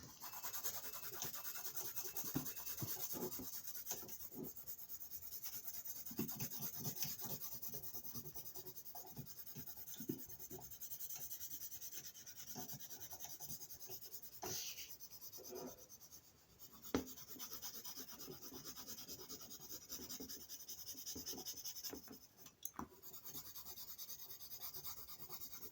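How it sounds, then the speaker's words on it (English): A pencil rubs and scratches across paper while darkening a hand silhouette drawing, a quiet, close, continuous rasp of repeated shading strokes with occasional louder scrapes and no talk. "we're gonna continue to darken up the entire drawing"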